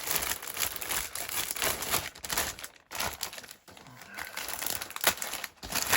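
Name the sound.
unpacking plastic model kit sprues from crinkling bag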